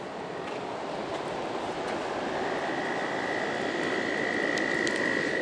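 Dense chorus of frogs croaking steadily throughout, loud and continuous, with a faint droning hum rising in the background.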